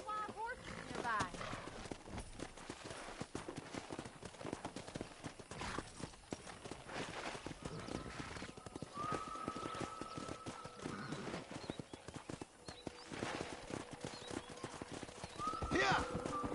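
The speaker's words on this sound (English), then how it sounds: "there's a pack of wild horses nearby" Hooves of a pack of wild horses in Red Dead Redemption clop steadily across a long stretch, with several high whinnies breaking through. People talk over much of it, and the scene sounds faint and busy.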